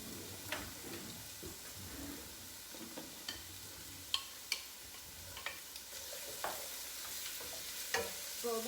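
Chopped onion sizzling in olive oil in a warm pan, a steady close frying hiss with scattered small pops and occasional utensil clicks from stirring.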